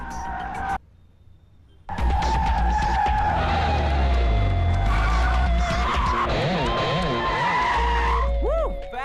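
A car skids hard during a test drive, its tires squealing in loud, wavering screeches over a roaring engine and a low rumble. The noise starts abruptly after a brief quiet gap, carries on for several seconds and ends with a few sharp squeals.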